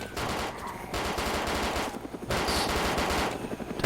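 Gunfire in the BreakingPoint video game, a shotgun among other weapons, comes as dense, loud, continuous bursts of shots with short gaps, close and alone without talk.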